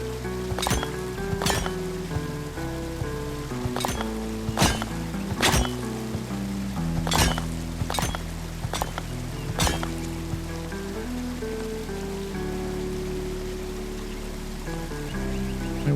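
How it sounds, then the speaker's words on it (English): River water flows in the Cowboy Life Simulator video game, a steady wash heard under music tones and sharp, irregular clinks and knocks. "The water's like really loud next to us."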